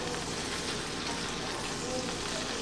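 Yellow summer squash seasoned with black pepper sizzles steadily in a pan as it is stirred, a dense, even crackle with no pauses, close and moderately loud.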